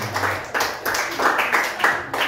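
Several people clap for a group in a classroom-style competition, a short close burst of uneven, rhythmic hand clapping with a few louder accents.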